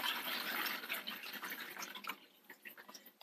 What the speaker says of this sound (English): We got this watered really, really nicely. I'm going to let it continue to drain.